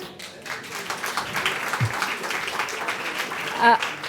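Applause from the audience at a pub quiz greets a competing team, moderate clapping with scattered sharp claps, heard through a busy room and partly under voices.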